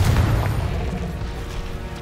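Explosive spells going off during a final boss fight in Hogwarts Legacy, a heavy booming blast at the start that rumbles and fades under continuing low noise.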